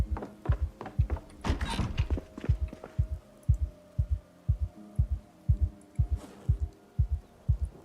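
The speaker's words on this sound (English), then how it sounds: "I've heard the heartbeat the entire time." A steady in-game heartbeat from Project Zomboid thumps in regular double beats, low and continuous, over a faint ambient hum while the character stands idle.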